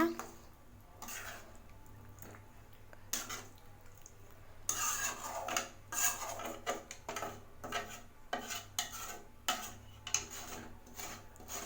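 Coconut milk being mixed into rice in a pan, soft scraping and stirring strokes that grow busier after a few seconds, quiet and close with faint background noise.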